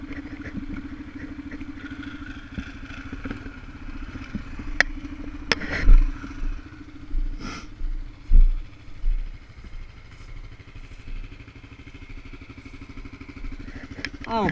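A new motorcycle's engine hums steadily at idle, then surges in a few louder revving bursts as the bike pulls away, fairly close and without speech.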